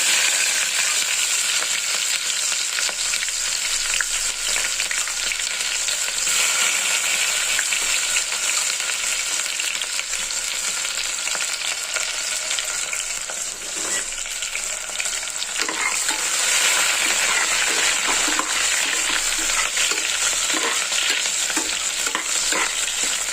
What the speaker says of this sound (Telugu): ఆనియన్స్ ఫ్రై అవుతూ ఉన్నాయండి